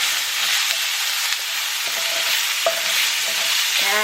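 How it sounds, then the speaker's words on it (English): Onions frying and being stirred in a very hot pan for Djiboutian sambussas, with a steady loud sizzle and hiss, close up, broken by occasional scraping stirs, with no talking. "the pan seems pretty hot, so I'm gonna throw in all the ingredients. I got the onions here."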